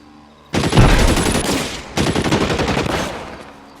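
Gunfire in the L.A. Noire video game, two loud close bursts of rapid shots, the first about a second and a half long, the second slightly longer and fading out.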